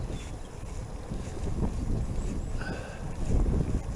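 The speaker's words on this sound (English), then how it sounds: "Back in the wind again, you see" Steady buffeting wind roars against the microphone during a leisurely ebike ride on quiet Lincolnshire Wolds roads, a continuous low rumble that swells louder near the end, with no voices.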